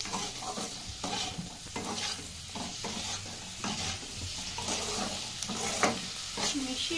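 Chili chicken sizzles loudly in a pan while being stirred and mixed, with scraping strokes and bursts of frying crackle throughout.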